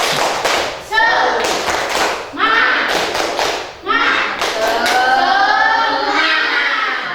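A class of children performs the 'tepuk semangat' clap chant, rhythmic bursts of claps alternating with short chanted vocal phrases, loud and close, repeated in several rounds.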